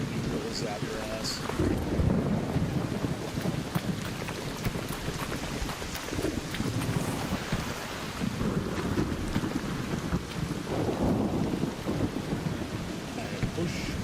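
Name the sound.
lightning strike thunder in a video game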